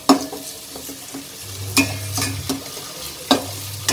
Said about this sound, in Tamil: இது ஒரு ரெண்டு நிமிஷம் நல்லா வதக்கிக்கலாம்.